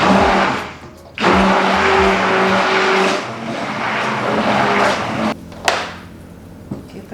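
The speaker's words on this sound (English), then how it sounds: "Okay, I'm going to use the blender now." A countertop blender whirs while mixing cold process soap ingredients, a loud steady motor drone with a sharp stop near one second, then restarting and running on with pitch shifts and a brief cutout near the end.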